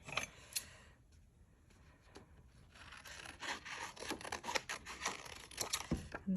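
Scissors snipping and crinkling paper for a junk journal, a run of quick, close cuts and rustles that thicken toward the end, with no talk.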